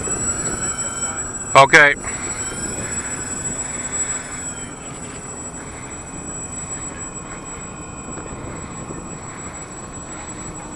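A radio-controlled B-24 Liberator model plane with a 2000mm wingspan taxis out, its motors giving a steady, even drone with a high whine throughout. A brief voice and a short sharp noise come near the start.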